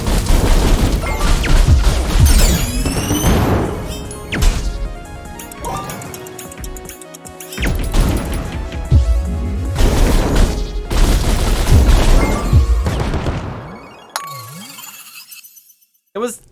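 Chaotic bomb blasts from the CrossCode action game crash and shatter amid clinking debris and busy game effects, several loud bursts spread through the scene while a voice talks over the action.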